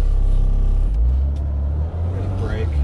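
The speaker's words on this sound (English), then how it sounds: "So before deleting anything, I do wanna give it a test drive." A 2011 Mercedes Sprinter van with low turbo boost on a test drive produces a heavy, steady low engine and road rumble inside the cabin, with muffled voices faintly in the background.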